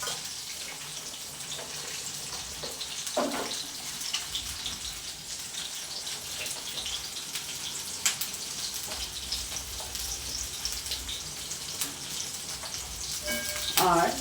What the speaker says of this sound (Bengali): এখন আমি বরবটিটা দিয়ে দিচ্ছি।